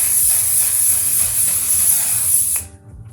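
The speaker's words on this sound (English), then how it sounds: "I'm gonna go in with the Patrick Star on one size Until Dawn setting spray" One Size Until Dawn setting spray, sprayed onto a made-up face, hisses in one loud, continuous misting burst close to the microphone for about two and a half seconds before cutting off.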